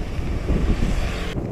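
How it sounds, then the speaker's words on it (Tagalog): Strong wind buffets the microphone on an outdoor Christmas Eve ride near Fushimi Inari Taisha in Kyoto, Japan, producing a loud, continuous, low rumbling roar with no speech. "Eh, sobrang lakas ng hangin."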